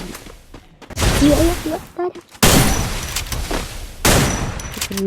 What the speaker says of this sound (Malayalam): ഇത് നമ്മളവനെ പടക്കം വെച്ചു.